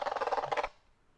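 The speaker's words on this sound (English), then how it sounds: "crackling sound, the audio is not clear, it's inconsistent" A faulty speaker in a Saber Masters Ultimate Lightsaber 2.0 gives a short burst of harsh, crackling, pulsing output that cuts off abruptly after under a second, leaving near silence.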